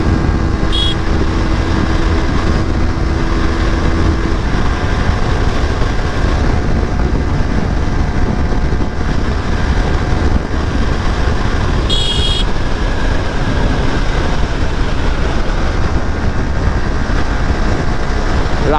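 A Yamaha R15M 150cc motorcycle riding along a road, with a loud, steady roar of engine and wind that runs unbroken throughout and no talking.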